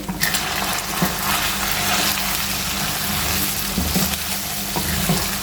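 Beef namkeen gosht with crushed black pepper being stirred in a hot pan, giving a steady close sizzle and frying hiss with a few soft scrapes and knocks of the spoon throughout.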